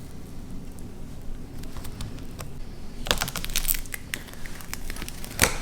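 A molded motorcycle grip being cut off its throttle tube, giving close, irregular crackling and tearing rasps with a denser burst of cutting partway through, alone without voices.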